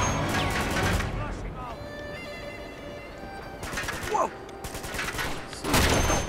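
Gunfire in the Uncharted 2 video game crackles in rapid bursts and scattered shots, mixed with game effects and music-like tones, with a person talking over the action.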